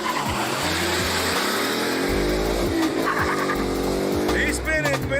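At a drag race launch, a Z06 and another car spin their tires: a loud, continuous screech of rubber over roaring engines, with crowd noise and voices in the background.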